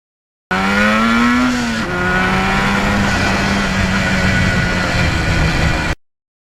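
A 1977 Yamaha RD400 two-stroke motorcycle on the road, its engine holding a loud, steady buzzing note after a quick shift, with wind rush underneath.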